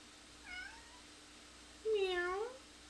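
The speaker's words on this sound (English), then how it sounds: "She needs her own channel where people can just listen to her meow the entire time." Pet cat Miso meows twice, a short faint call followed by a longer, louder, rising-and-falling meow, close by in a quiet room with no talking.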